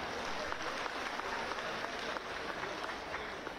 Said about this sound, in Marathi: एकदा जोरदार टाळी त्यांच्यासाठी